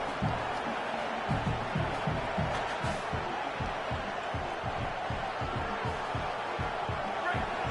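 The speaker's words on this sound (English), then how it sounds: "The roar of the crowd trying to fuel this defense to keep them pinned in their own end." A stadium crowd at an American football game roars continuously, a dense wash of cheering noise with a steady rhythmic thumping through it and a commentator talking over the top.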